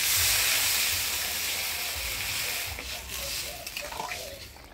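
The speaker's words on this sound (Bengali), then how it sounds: "এবার জল দিয়ে দিব" Water pours into a pan of vegetable curry with beans, potato and brinjal, giving a loud broad hiss and splash at first that softens into bubbling, close up, with no talking.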